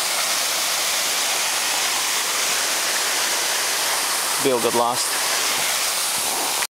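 A big waterfall roars loud and constant beside mango roots, a dense unbroken rush, with a short spoken phrase cutting in briefly near the end.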